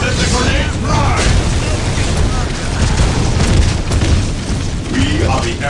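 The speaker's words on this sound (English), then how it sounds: "Let the grenades rise!" Grenade blasts and booming explosions from the Space Marine campaign of the strategy game Dawn of War: Dark Crusade, a loud continuous wall of battle noise with rumbling bursts throughout.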